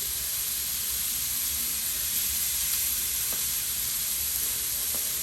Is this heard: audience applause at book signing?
no